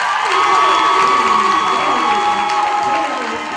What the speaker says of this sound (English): I said, clap for yourself.